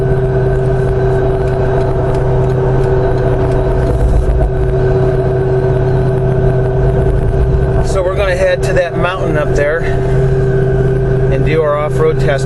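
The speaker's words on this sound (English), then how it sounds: "I'm just touching the throttle. We're going to get an upshift." Steady engine hum of a 2015 Jeep JKU Rubicon with an LS3 V8 and 6L80 automatic on 40-inch tires, driving with light throttle as it shifts up, close and continuous in the cabin, with someone talking over it.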